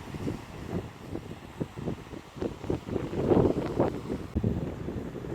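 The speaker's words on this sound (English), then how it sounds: "It is really quite windy here" Wind buffets an outdoor microphone during handheld camera shooting, a steady low rumble with gusty surges and rustling throughout.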